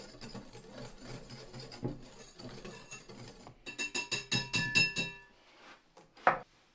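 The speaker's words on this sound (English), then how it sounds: "Next I add in my grated orange zest. And I'll give this a good little whisk." Biscotti mixture with grated orange zest is whisked in a bowl: after soft, quiet rustling comes a quick, rhythmic run of a dozen faint metallic taps, then a final clink.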